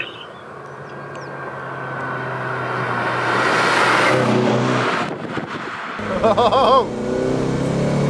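Mazda MX-5 engine revving hard during a drift drive, a loud sustained drone that rises and falls with a brief gear change near the end, plus a short exclamation.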